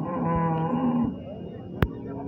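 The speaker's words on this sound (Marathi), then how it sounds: "तर ही बैलजोड बघू शकता मित्रांनो, 4-4 दात वासरे मित्रांनो दोन्ही पण" Bullocks low and moo at a rural bull market, several drawn-out calls close by one after another, with a sharp knock near the end and faint market background.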